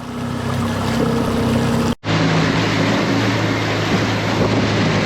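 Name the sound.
small boat with outboard motor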